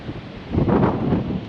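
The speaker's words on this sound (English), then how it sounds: "It's windy." Gusty wind blows across the microphone on the open Gettysburg battlefield, swelling halfway through into a louder, rushing roar that holds to the end.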